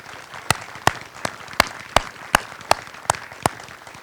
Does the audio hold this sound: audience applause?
yes